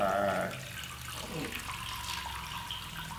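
Water pours from one cup to another through a 3D-printed piece, producing a soft, steady splashing trickle that stays fairly faint throughout.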